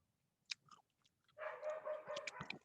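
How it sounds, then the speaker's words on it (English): A dog barks in the background indoors, with a short yelp and then a sustained, muffled run of barking that continues to the end. "people might hear like my dog barking in the background."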